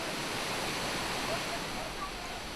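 A waterfall at Caesarea Philippi, Israel, pours down the mountainside in a steady, dense roar of rushing water that stays constant throughout.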